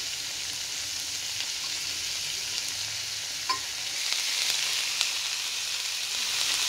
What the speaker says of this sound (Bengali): এগুলো বেশি ভাজতে হবে না, হালকা করে একটু ভেজে নিয়ে লঙ্কাগুলো দিয়ে দেবো।